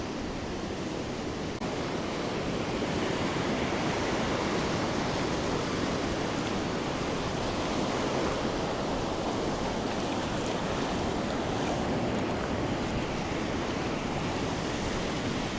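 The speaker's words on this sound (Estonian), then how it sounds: "Lained tulevad ka siin erineva hooga." Ocean waves breaking on a beach along the Portuguese coast, heard as a steady, loud, close rushing roar of surf mixed with wind that carries on without pause, with no talking.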